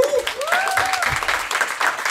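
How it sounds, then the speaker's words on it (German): An audience claps at a German stand-up comedy show, a short burst of dense applause heard under the comedian's voice, which rises over it with a whooping, drawn-out vocal sound. "Mal Applaus."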